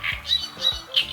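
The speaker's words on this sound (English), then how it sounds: "First being this amazing great reed warbler." A great reed warbler calls from reedbeds in Romania's Danube Delta, a close, harsh series of grating, squawking notes in a quick rhythmic pattern, heard alone.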